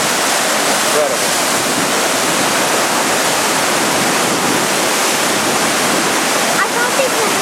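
Floodwaters of a river swollen by Hurricane Irene in Suffern, New York, rush past as a loud, steady, broadband roar that fills the whole stretch without pause.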